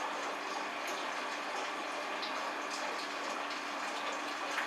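Water pours steadily into a home brewing kettle, a continuous even gushing rush with no pauses, fairly quiet and alone.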